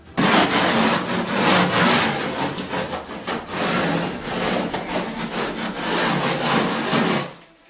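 A tile edge is rubbed back and forth on an old sharpening stone, a loud, gritty scraping repeated in rhythmic strokes for several seconds, with no voices.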